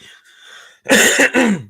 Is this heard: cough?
yes